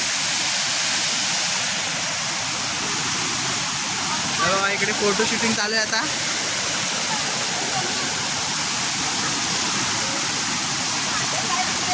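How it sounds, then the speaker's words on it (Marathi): Panderi waterfall in Mandangad, Konkan, swollen after two days of heavy rain, roars in a loud, constant wash; a person speaks briefly over it partway through. "धबधब्याचं पाणी भरपूर वाढलेलं आहे"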